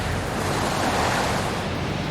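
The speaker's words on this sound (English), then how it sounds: "the waves and the ocean is so powerful" Powerful ocean surf rolling onto a beach, a steady broadband roar of breaking waves with some wind buffeting the microphone, continuous and fairly loud throughout.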